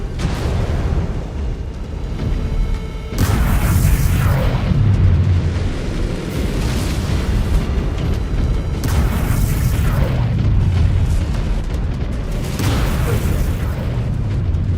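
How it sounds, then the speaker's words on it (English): A missile explodes in the MechWarrior 5: Clans video game, with deep booming blasts that rise sharply around three seconds and recur over a loud, continuous rumble of battle noise. "Incoming missile."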